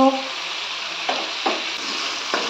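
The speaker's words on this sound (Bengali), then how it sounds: "একটু ভালো করে নেড়ে কষে নেব।" A Bengali poppy-seed spice masala for rui posto fries in hot oil in a pan, giving a loud, continuous sizzle broken by a few scraping stirs at irregular intervals.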